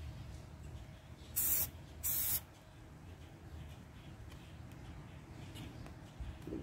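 Two short hissing bursts from a spray paint can during an arctic camo paint job, about a second apart, clear over quiet background noise.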